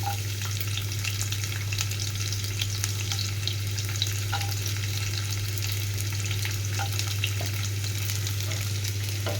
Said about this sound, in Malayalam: പിന്നെ നമ്മൾ അതിലേക്ക് ഇട്ട് കൊടുക്കുന്നത് വെളുത്തുള്ളിയാണ് കേട്ടോ.